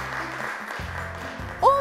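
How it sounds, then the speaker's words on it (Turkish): A studio audience on a Turkish quiz show claps briefly, a soft, steady patter of applause that ends with a short bright tonal cue. "Alkışlıyoruz."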